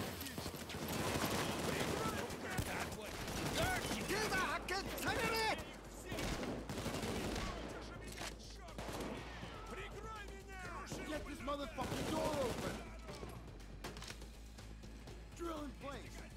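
Rapid bursts of automatic gunfire and shots ring out in the video game Payday 2, layered with game effects and music while players talk over the action throughout.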